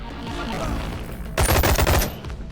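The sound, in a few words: laser two-handed ranged weapon shots in a video game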